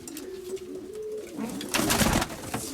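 Soft, low cooing from pigeons with a few murmured notes, followed by a burst of fluttering and shuffling noise nearby.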